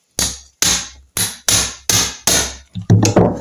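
Sharp hammer blows on an impact driver set in a stuck gearbox outer cover screw of a Norton Commando engine, six loud evenly spaced metallic strikes, then a couple of quicker final hits.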